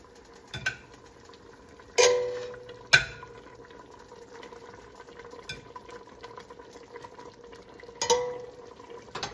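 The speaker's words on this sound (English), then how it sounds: "Now the meat goes back in." Pork carnitas meat drops back into a pot of boiling liquid, giving a few separate splashy thumps over a quiet background of gentle bubbling, with no voices.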